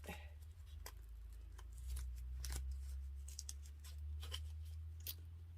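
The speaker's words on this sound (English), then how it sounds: "I'm gonna have to kind of rip it." A paper seed packet for garden planting torn open by hand, small crackling rips and rustles close up over a low steady hum, faint and brief with no speech.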